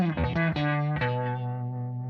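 Electric guitar through a Magma 57 harmonic tremolo pedal with a Univibe-like wobble plays a few quick double-stop strums, then lets a chord ring and fade, close and alone.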